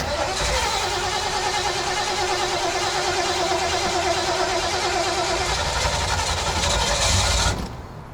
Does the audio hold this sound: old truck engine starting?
yes